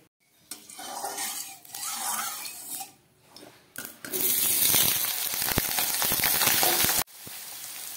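Potato and eggplant pieces frying in oil in a wok: scraping stirs and clanks of a utensil against the pan, then a loud burst of hissing sizzle that cuts off abruptly and resumes more softly.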